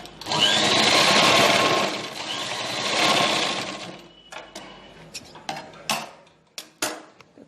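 A sewing machine stitches folded cloth pieces for a small cosmetics bag, running in two sustained whirring bursts, then stopping as fabric is shifted with light clicks and taps.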